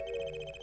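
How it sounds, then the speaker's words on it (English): A phone rings in the Apollo Justice: Ace Attorney video game, a steady electronic trill with repeating pulses held close and clear for under a second, with no talking over it. "My phone is ringing."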